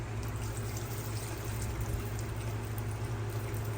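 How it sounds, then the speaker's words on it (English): Water pours and trickles steadily out of a tray of sphagnum moss used for growing Nepenthes seedlings, a continuous close-up wet gurgle with no talk. "Look at all that water coming out of there."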